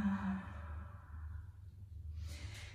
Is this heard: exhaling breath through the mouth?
yes